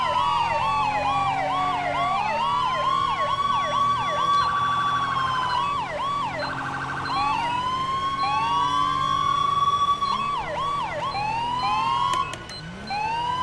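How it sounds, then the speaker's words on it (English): A loud electronic police vehicle siren in a video game cycles through wailing and yelping tones, switching patterns repeatedly with a few rapid warbles, with no talking. "my siren tones were fucked up."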